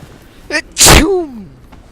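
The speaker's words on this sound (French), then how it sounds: "Ah, tout ça m'a donné un éternuement." A character in Vampyr gives a single sharp sneeze, preceded by a brief catching inhale and trailing into a falling voiced tail, close and loud.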